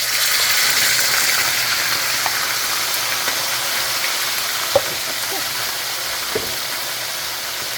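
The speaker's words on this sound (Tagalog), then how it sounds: "ilagay na natin ang karne sa mantika, pero mag-ingat ka, baka masyadong mainit ang mantika mo" Beef frying in hot oil during a Filipino pigar-pigar stir-fry with cabbage, a steady broadband sizzle filling the whole stretch with a few small pops and clicks, close and fairly loud with no talking.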